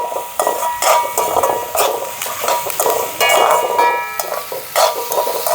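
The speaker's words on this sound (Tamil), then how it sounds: "வடிவாக போட்டு திருப்பி ஒருக்கா வதக்கி விடுவோம்." Onions and curry leaves stir-fry in a pan with a steady, loud sizzle, while a utensil scrapes and clinks against the metal in an uneven, continuous rhythm.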